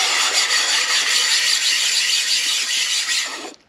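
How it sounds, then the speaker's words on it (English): Sandpaper rubbed back and forth on a flat surface while flattening a part of a B-series transmission, a steady loud abrasive scraping that runs continuously and stops abruptly at the end, with no talking. "Put it on a flat surface like this and just rub it."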